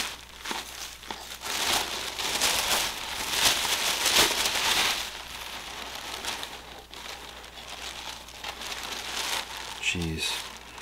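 Lobby cards from a Pumpkinhead 4K collector's edition bundle pulled from crinkly plastic packaging, with close, loud bursts of crackling and rustling through the first half, then quieter handling noises and a brief low thump near the end.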